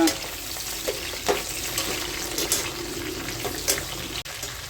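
Squid chilli fry crackling and sizzling in a pan, a steady close hiss of hot oil with occasional louder pops and soft stirring scrapes, no voices.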